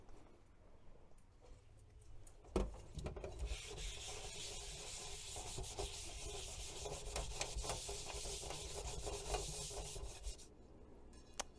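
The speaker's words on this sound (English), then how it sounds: "I am going to use a Scotch-Brite pad to clean it down from any shop dirt and grime" A Scotch-Brite pad scrubs a steel baking plate in a continuous, fairly quiet abrasive rasp lasting several seconds, with no talking.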